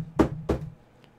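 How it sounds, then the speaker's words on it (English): Two firm knocks on a door, evenly spaced about a third of a second apart, close and distinct, followed by quiet. "he hears a knock at the door."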